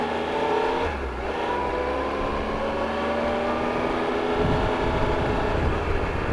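A 2015 Triumph Tiger Explorer 1200 motorcycle under way, its engine droning steadily with a low rumble and shifting tones as revs rise and fall, mixed with continuous wind and road noise.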